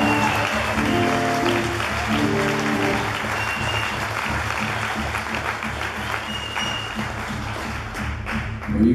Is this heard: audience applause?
yes